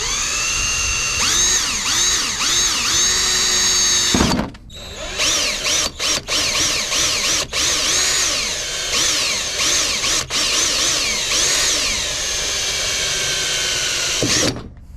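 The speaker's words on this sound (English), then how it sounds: "Feels unnatural to be drilling into your car." A power drill bores into the steel of a first-generation Toyota Sequoia to mount an offroad light bull bar, loud and close, running in several sustained bursts with rising and falling pitch as the bit bites and brief pauses between.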